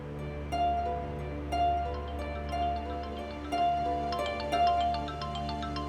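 A phone ringtone repeats its short melodic phrase about once a second, bright and steady, sounding in a quiet indoor drama scene with no talk over it.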